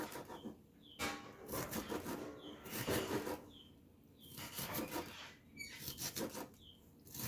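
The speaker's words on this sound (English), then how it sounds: "And then I put them all together, and then kind of just finely chop them like this." Vegetables for pico de gallo being finely chopped with a knife on a cutting board, heard as dense bursts of rapid scraping and knocking strokes separated by short pauses, close up and with no talking.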